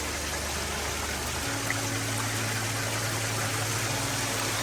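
Steady water trickling and splashing in a garden pond, a continuous broadband wash heard close and fairly loud over a low pump-like hum that shifts pitch partway through.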